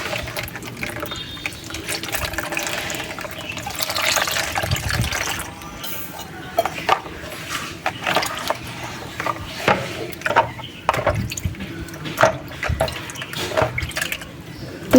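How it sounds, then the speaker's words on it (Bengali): A whole watermelon is washed under running tap water, a steady close splashing and trickling with irregular louder splashes and drips as it is rubbed and turned. "তো চলো তরমুজটা প্রথমে ধুয়ে নিই ভালো করে।"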